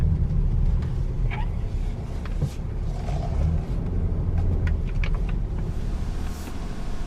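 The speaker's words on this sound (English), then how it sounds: "It's got a beautiful 280 horsepower V6 under the hood" A 2019 Honda Odyssey minivan with a 280 horsepower V6 on the road, its engine a steady close rumble with road noise throughout, rising slightly in places, no talking.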